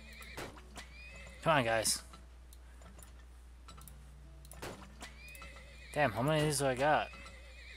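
Horses in the oil-drilling video game Turmoil whinny loudly twice, each a rising and falling neigh, mixed with clip-clop hooves and ticking game sounds while someone talks over them.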